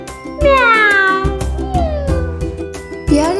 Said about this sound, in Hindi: बिल्ली करती म्याऊं म्याऊं म्याऊं